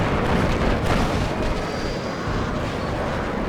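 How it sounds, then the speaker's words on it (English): A high-explosive bomb strikes a T-55 tank in the war strategy game Warno, a sharp blast early on rolling into a long, rumbling roar that stays loud and dense. "I figured I might as well do a HE bomb run on the tank"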